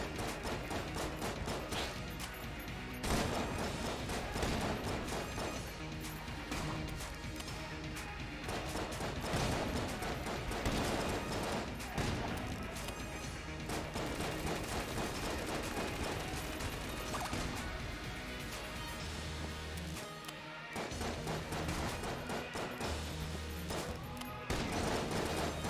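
Dense, continuous gunfire from the bullet-hell video game Enter the Gungeon, rapid bursts and clattering impacts layered over loud game music for the whole stretch, with a brief drop near the end.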